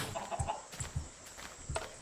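A chicken in the video game Minecraft gives several short, soft clucks spread over two seconds against a faint background hum.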